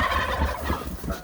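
Turkeys on a farm gobble close by in a brief, loud, warbling burst, several birds overlapping with no talk.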